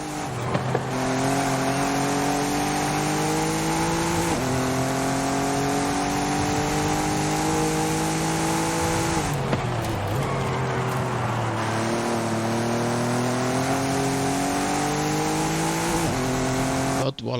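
Racing-game Jaguar and Infiniti engines drone steadily at high revs, pitch climbing through each gear and dropping at the shifts, loud and continuous for the whole stretch.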